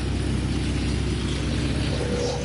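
A mini combo thresher machine mounted on a tractor, running unloaded at low RPM with a steady, loud, continuous low engine rumble and mechanical drone at close range.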